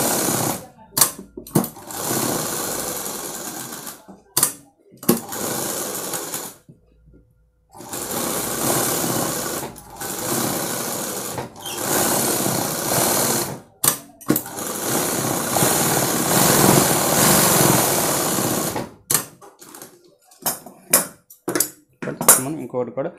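A sewing machine stitches the back part of a blouse in loud bursts of rapid mechanical whirring, stopping and starting repeatedly with brief quiet gaps and short clatters between runs.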